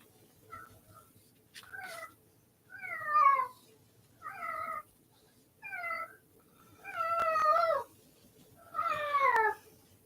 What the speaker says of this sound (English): I am really sorry about my cat,